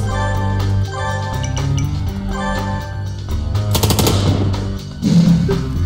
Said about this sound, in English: Let's use incendiary shots in their heads.